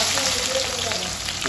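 Onions fry in ghee in a pan, giving a steady close sizzle with crackly spatter and no talk.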